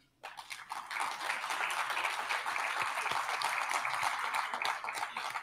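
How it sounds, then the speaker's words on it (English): An audience at a hybrid awards event in Doha breaks into applause on cue, a dense steady burst of many hands clapping that starts abruptly and holds at an even level to the end. "So if I say 1, 2, 3, please clap."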